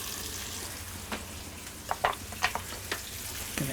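Garlic sizzles in sesame oil in a pan, a steady frying hiss broken by several sharp scraping stirs at close range.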